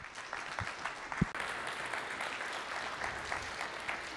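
An audience at a cybersecurity conference applauds to welcome a speaker, a steady wash of clapping from many hands filling the room at moderate loudness.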